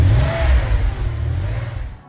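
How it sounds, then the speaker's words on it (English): A car motor revs up as a sound effect, a loud, close engine roar that swells quickly, holds with a rising whine, then fades out at the end. "I added this sound of a motor right after the transition."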